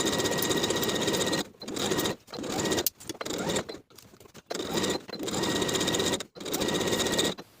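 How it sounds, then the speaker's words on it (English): A home sewing machine stitches a skirt side seam in long, loud, steady bursts of rapid mechanical whirring, broken by short pauses for pivoting, with no talking. "with a 3/8 inch seam allowance, we'll start sewing at the top down the side seam"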